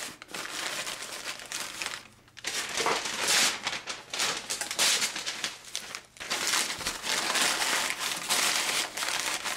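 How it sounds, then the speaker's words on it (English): Newspaper crumpling and crinkling up close, a steady rustle with brief pauses, loud and continuous with no talking. "I would take some newspaper"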